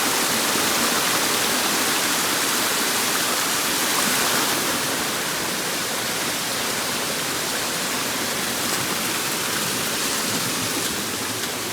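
Water flows down a rocky stream with a continuous broadband rushing that stays even and fairly loud from start to finish, with no voices.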